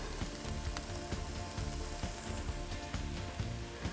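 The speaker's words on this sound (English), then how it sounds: "And so now we're going to throw our lamb mince in." Lamb mince hitting a hot frying pan for a shepherd's pie, giving a steady close sizzle and crackle with small spits and pops as the meat is broken up, alone with no voices.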